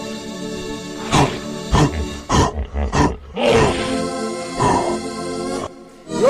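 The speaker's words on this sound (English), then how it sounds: "This is the special DJ Davenport Hippo Grunts and Snarls episode" A hippo gives a series of loud, close, throaty grunts and snarling roars, several separate bursts with brief pauses between them.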